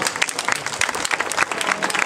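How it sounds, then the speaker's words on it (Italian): Warm applause from an audience welcomes dancers onto an outdoor stage at a local dance show, a dense, steady patter of many hands, moderately loud and without talk. "Accogliamo così questa sera su questo meraviglioso palco con un caloroso applauso Francesco Perri"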